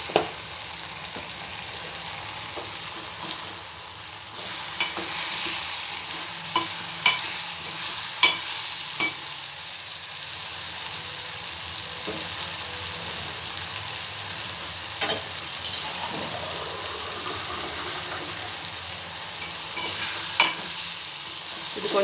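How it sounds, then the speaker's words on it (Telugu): Spices, including coriander powder, stirred and frying in hot oil for a potato tomato curry: a steady sizzle with scattered spoon scrapes and clinks against the pan, heard up close for a long stretch with no talking. "కొంచెం కలబెట్టి ఈ ఆయిల్లో కొంచెం వేగితే బాగుంటుందండి"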